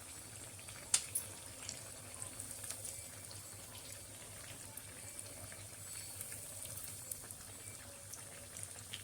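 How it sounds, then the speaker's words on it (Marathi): Sabudana vada shallow-frying in hot oil, a faint, steady bubbling sizzle with scattered small pops and crackles, no voices. "वडे एका बाजूने चांगले खरपूस आपण तळून घेऊ"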